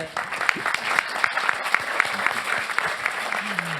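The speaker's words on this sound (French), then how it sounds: "Je pense qu'on va l'applaudir." Applause from an audience at an evening screening event thanking a speaker, a brisk patter of individual claps heard close and steady throughout.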